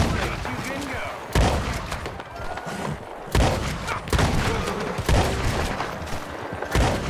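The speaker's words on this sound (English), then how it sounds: "I just shot that guy three times." Gunshots ring out in Red Dead Online, several sharp loud cracks spaced a second or so apart amid background noise and ongoing chatter.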